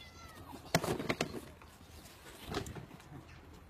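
A cat meows faintly a couple of times, soft short cries against a quiet, slightly noisy background.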